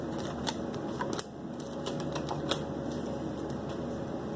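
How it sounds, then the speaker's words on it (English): A deck of tarot cards is handled and cut by hand, giving a run of light, sharp card snaps and soft shuffling rustles close up over a steady low background hum. "And then I'm going to cut the deck here."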